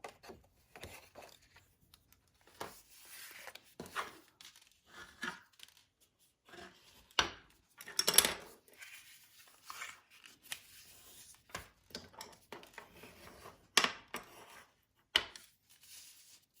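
Metal snips cut a small craft panel off along a marked line, giving quiet, scattered snipping and rasping crunches in irregular bursts with short pauses, close by and alone.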